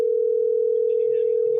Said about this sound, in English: The phone is still ringing in the background and I can't hear you.